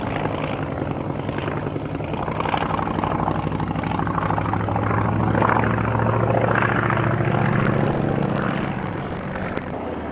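A Polikarpov Po-2 biplane of the Soviet era, owned by an aerobatic champion, flies past at a Russian Air Force centenary display with a loud, steady droning propeller engine that swells slightly midway.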